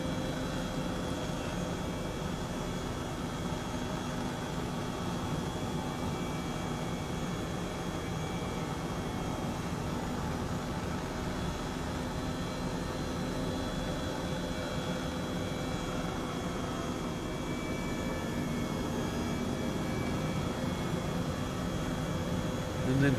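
An Airbus H135 helicopter drones steadily throughout, a constant whining engine roar with a rotor hum, heard from inside and unchanging in loudness.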